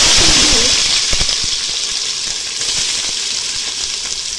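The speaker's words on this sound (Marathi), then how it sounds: "कांदा आपण आहे ना हा असा चांगला मस्त गुलाबी परतून घेऊ" Onion sautéing in hot oil with whole spices for chicken biryani, a loud, continuous hissing sizzle with scattered small crackles and pops.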